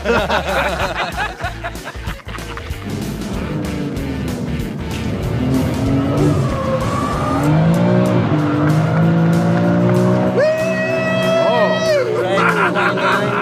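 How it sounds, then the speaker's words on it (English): A car drifts through a turn in a driving competition, its tires squealing in long rising and falling wails, loud and steady throughout, with commentators talking and laughing over it. "That was a hell of a drift."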